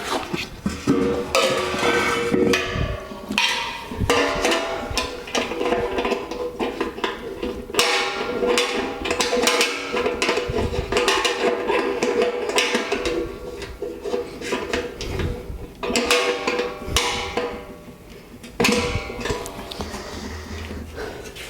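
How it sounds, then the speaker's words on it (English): A nut is tightened on a converted beer keg distilling boiler, with repeated metallic clanks, scrapes and ringing knocks of tools against the steel keg at close range. "Now the nut's gone on from the inside and we can tighten that up."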